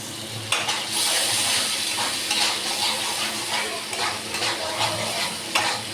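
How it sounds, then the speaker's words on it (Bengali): Spice masala with salt and chilli fries in a pan as it is stirred for a fish curry, a strong, steady sizzle marked by regular scraping strokes and light metallic knocks, near and without speech. "পরিমাণ মতন নুন ঝাল আপনাদের মতন দেবে দিয়ে একে একটু ভালো করে কষতে হবে।"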